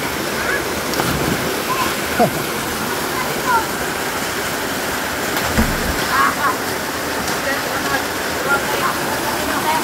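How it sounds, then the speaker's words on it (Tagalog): A waterfall at Anduyan roars continuously close by, a broad steady rush of falling water with occasional splashy bursts, and a voice talks faintly underneath. "Maganda tong falls na to."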